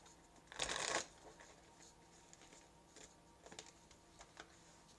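Tarot cards are riffled in one loud, close shuffle lasting about half a second, followed by a few light card taps and clicks in a quiet room.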